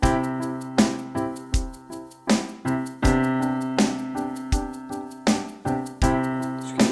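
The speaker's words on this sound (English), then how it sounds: "Welcome to your practice pad groove, which will eventually sound like this on the full kit." A drum groove on a full kit, with hi-hat, snare and bass drum, plays a steady repeating pattern of punchy hits over a sustained musical backing, loud and close throughout.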